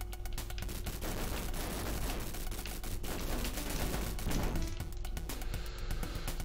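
Dense, rapid gunfire and shooting effects fill the arcade shoot-'em-up Scramble Spirits during a boss fight, a constant crackling barrage with clicking blips over it and no talking.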